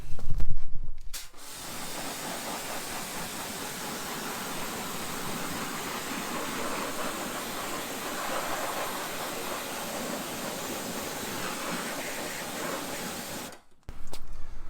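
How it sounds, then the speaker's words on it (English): A low-pressure washer sprays water on a car in one long, steady hissing blast, loud and close, with a brief mechanical start and stop at either end. "That's a quick spray, and the PSI on this water blaster here is not that strong."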